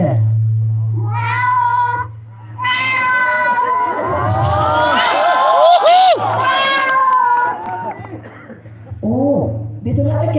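Voices imitate a group of cats, including a mother and a baby, meowing and caterwauling in drawn-out, overlapping yowls that rise and fall, with a low steady hum underneath and brief pauses between cries.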